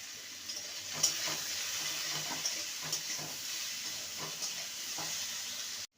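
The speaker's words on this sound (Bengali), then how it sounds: "আলুটাকে দু মিনিট ভেজে নিয়েছি" Potato pieces fry in a pan with salt and turmeric powder, giving a soft, continuous sizzle punctuated by light scraping and stirring clicks before stopping abruptly; no one speaks.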